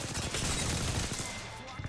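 Gunfire from a strafing attack in a video game, a dense, continuous rattle of rapid shots mixed into a busy, loud game soundscape.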